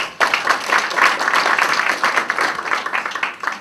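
A crowd at an international business forum applauds Mr. Collet with dense, continuous clapping that starts abruptly and stays steady and fairly loud, thinning slightly near the end.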